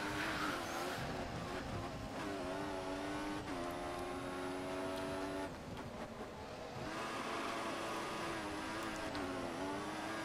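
A Formula 1 car in the racing game F1 2014 roars steadily at high revs, with thin, high tire squeals rising over the engine in two stretches.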